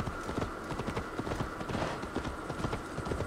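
Horse hooves gallop in Assassin's Creed Valhalla, a steady fast clip-clop rhythm running continuously at moderate level over a dense background.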